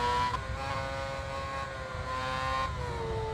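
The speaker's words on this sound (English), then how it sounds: "Using early downshift and engine braking to slow the car down through those compound corners" A video-game F1 car on the Korean GP track holds a loud, buzzing engine tone that steps down in pitch with each downshift, settling between drops in a continuous whine heard alone.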